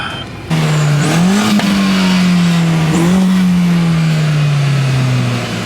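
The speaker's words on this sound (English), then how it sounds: "You want to see some all-wheel drive launch?" BMW E30 with an S54 engine swap launches hard and revs, a loud close engine note climbing and dropping in steady harmonic pulls with shifts, running continuously after a sudden start.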